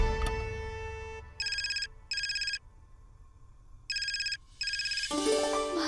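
A phone ringtone for an incoming call rings in three short electronic bursts with pauses between them, fairly loud and close, before other sounds pick up at the end.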